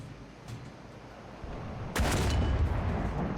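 A Charioteer Mk VII tank gun firing in War Thunder, with a low engine rumble and then one loud, heavy boom that rolls into a sustained rumbling tail.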